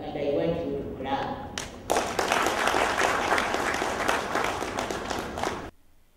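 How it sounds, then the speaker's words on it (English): An audience at a Worker'sPAS project event in Uganda breaks into loud, dense applause after a brief stretch of talk, sustained for several seconds before cutting off abruptly. "I want you to clap"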